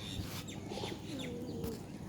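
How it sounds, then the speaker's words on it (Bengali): Pigeons give soft, low coos close by, several overlapping calls against a steady outdoor background. "তো এই হলো কবুতর।"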